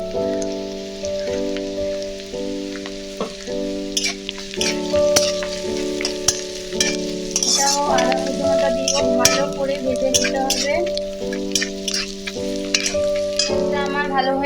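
Prawns fry and sizzle in a pan for a yogurt prawn curry, a steady crackling hiss broken by scraping stir strokes, with a sustained musical tone playing underneath.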